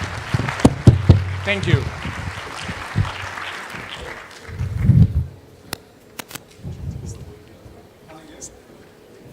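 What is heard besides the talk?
audience applause for rappers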